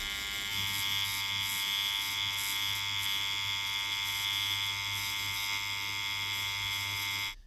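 A tattoo machine fitted with a 9 soft edge Magnum needle runs at a 3.3 mm stroke, giving a steady, close electric buzz with a bright whine that holds for about seven seconds before cutting off.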